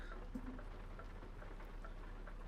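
Rain in the Euro Truck Simulator driving game falls as a faint, steady patter of drops on a surface over a low constant hum, quiet and unbroken.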